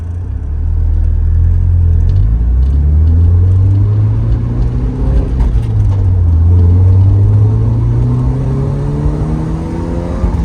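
A 1990 Porsche 944 S2 Cabriolet's 3-liter engine revs up and down, loud and close, with a deep rumble whose pitch climbs, falls and climbs again over several seconds.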